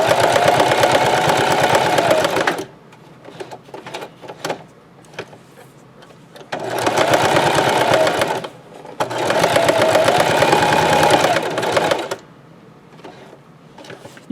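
A sewing machine zigzag stitches burlap onto a Dollar Tree potholder in three loud, steady bursts of rapid mechanical whirring, separated by quieter pauses with faint handling clicks.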